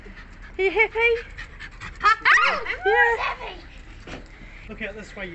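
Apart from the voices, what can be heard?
dog panting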